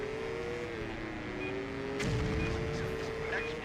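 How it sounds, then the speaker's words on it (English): In the PlayStation 2 stunt-driving game Stuntman, a droning car engine hums steadily, then a sudden loud explosive burst hits midway and rumbles on under the engine. "Explosion."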